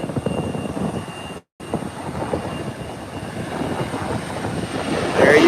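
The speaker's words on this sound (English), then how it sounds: "Look at this touchdown. Nice. The Airbus 321 Neo." An Airbus A321neo jet touches down on landing, producing a steady, broad engine and rolling rumble at moderate distance, with a brief dropout and a rise in loudness near the end.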